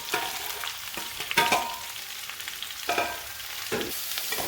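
Onion and ginger fry in a pan with a steady broadband sizzle, broken by several louder bursts of stirring and scraping at irregular intervals, close and alone with no voices.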